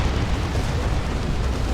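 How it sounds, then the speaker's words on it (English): Demolisher Cannon firing in the video game Dawn of War 2, a heavy, rumbling explosive boom that keeps going for the whole short moment. "Demolisher Cannon again."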